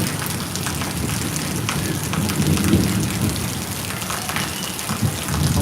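Heavy monsoon rain pours steadily over Surat city, a dense continuous roar of drops striking surfaces with low rumbling thunder underneath, loud and unbroken throughout with no voices.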